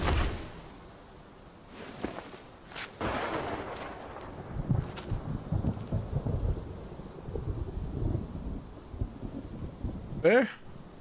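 Thunder rolls through a stormy scene in Black Myth: Wukong, with a low rumbling bed and several sharp cracks, the loudest strike landing near the end, while a voice talks intermittently over it.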